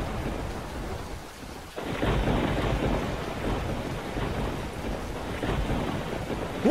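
Rain falls steadily with low rumbling thunder during a dark thunderstorm in the video game Into A Dream. The storm swells louder after a brief lull and stays loud and continuous throughout.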